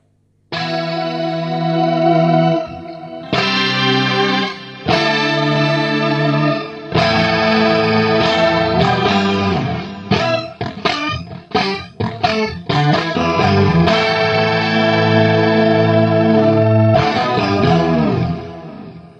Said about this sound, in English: So you're getting pitch shift, chorus, bit of delay,